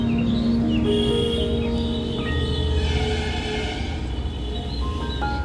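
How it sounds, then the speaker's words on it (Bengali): On a rooftop during a Saraswati Puja celebration, thin bird chirps and calls rise over a constant, loud wash of outside traffic and festival noise that keeps the whole scene dense. "এখানে কিছু পাখিও ডাকছে যে পাখিগুলোর আওয়াজ বেশ ভালোই লাগছে ভিডিওর মধ্যে"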